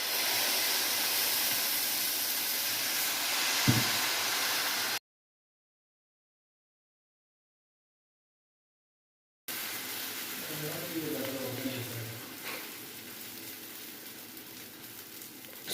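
Thalicha dosa batter poured onto a hot pan, a steady hissing sizzle heard close, broken by a silent gap, with someone talking over the frying.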